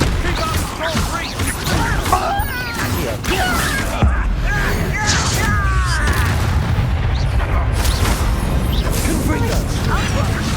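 A Confringo fire spell explodes in Hogwarts Legacy amid a loud, chaotic duel, with booms and crashing blasts layered over ongoing combat noise, and voices shouting throughout.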